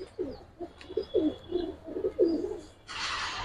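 Giribaz pigeons coo in a close, soft series of rolling calls, several in a row, followed by a brief burst of hiss near the end, with no voices.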